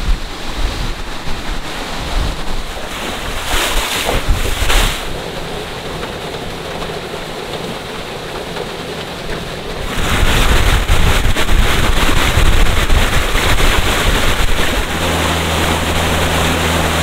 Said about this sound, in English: take you for a boat ride